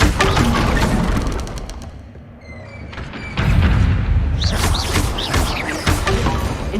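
Hogwarts Legacy spellcasting in combat: Incendio fire spells burst with loud whooshing booms and crashes, one surge fading into a lull before a fresh, heavier run of fiery impacts with sharp bright flickers.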